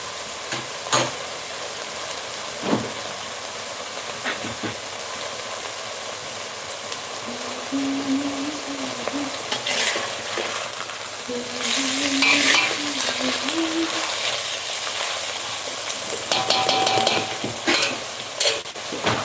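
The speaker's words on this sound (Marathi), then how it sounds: "आपण ही कांद्याचे पात त्या तेलावर छान परतून घेणार आहोत" Spring onion greens sautéing in oil in a pan, a steady sizzle with repeated scrapes and clinks of a spatula stirring, close and moderately loud, without speech.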